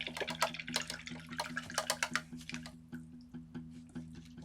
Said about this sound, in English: So I'm going to wash off my brush.